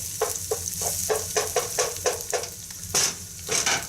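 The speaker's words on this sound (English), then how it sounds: "So when adding the livers to the pan, I'm just going to create a little space for them here" Chicken livers hit a hot pan with a steady sizzle, and a utensil scrapes and stirs in rhythmic strokes close up, a louder clatter near the end, with no talking.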